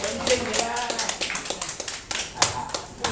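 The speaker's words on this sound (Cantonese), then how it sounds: "我哋拍手鼓掌好嘛？" A small group claps at a Father's Day gathering in an elderly care home: scattered hand claps tap along under continuous talking, close by and moderately loud.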